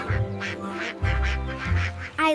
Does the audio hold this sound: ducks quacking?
yes